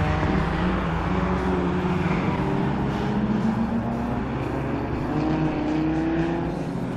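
A classic Datsun race car passes on a circuit, its engine a loud continuous drone with a slowly rising pitch across the whole stretch, with no talk over it.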